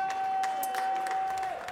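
Applause from the audience at a French barista championship final, a scattered, moderate clapping under a steady high electronic tone, with a few sharper claps standing out.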